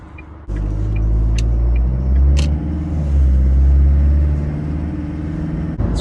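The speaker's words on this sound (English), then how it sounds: "A lot of traffic." Road traffic rumbling past on a busy road, a continuous loud low drone of cars that swells as vehicles pass close by and eases off, heard from a parked truck.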